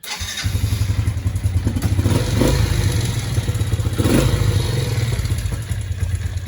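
A quad ATV engine cranks and catches right away, then settles into a loud, steady, rapid chugging run close by, with a few clattering thumps over it.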